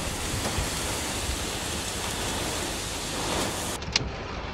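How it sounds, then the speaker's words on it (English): Strong wind and hail lash a car during a tornado storm, a loud, steady roar of rushing noise with scattered impacts and a sharp knock near the end. "I got chunks of hail falling."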